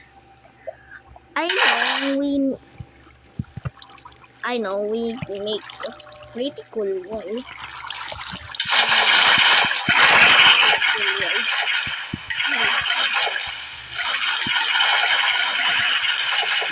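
Water pours in as a broad, rushing splash starting midway and continuing to the end, loud and close, after a stretch of people talking and laughing.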